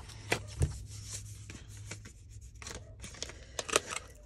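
Scissors snip paper for a handmade journal, giving a series of sharp, close cuts spaced irregularly over a few seconds with soft paper rustling between them and no talking.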